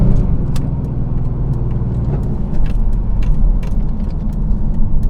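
A 1999 Pontiac Firebird Trans Am WS6 with 50,000 miles rumbles steadily at close range, its deep engine note holding loud and even throughout with no talk over it.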